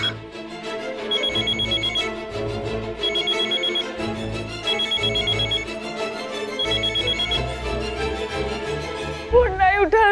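A telephone rings repeatedly in regular electronic bursts, fairly loud and close, with a brief voice-like sound near the end.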